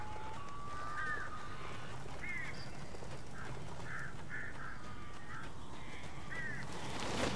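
Crows caw repeatedly in the Alan Wake video game: a series of short, harsh calls spaced across the scene over a steady low ambient rumble, no voices.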